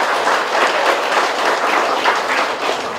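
An audience at a Buddhist teacher's talk breaks into steady, dense applause, a continuous wash of many hands clapping throughout with no voices on top.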